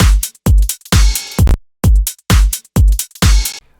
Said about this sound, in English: I added this ride. As you can hear, it plays at the end of our phrase.